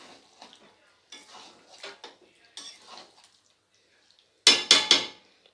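A metal pot of chicken masala is stirred with a few soft scrapes, then the lid clatters on with three sharp, close metallic clanks near the end, with no voices.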